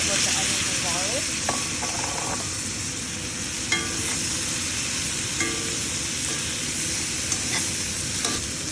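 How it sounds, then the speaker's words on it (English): Steak sizzles and fries in a pan with garlic, onions and butter for Vietnamese shaking beef, giving a constant hiss with occasional clinks and scraping stirs, no voices. "I'm throwing back in the steak just to flavor it with the onions and garlic."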